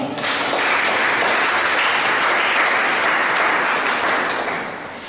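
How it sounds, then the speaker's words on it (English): A Ghanaian community gathering in Tripoli, Libya, where the audience gives steady, full clapping to welcome embassy officials, sustained for several seconds at close range before easing slightly at the end. "The Consular Officer of the Embassy of Ghana, a round of applause."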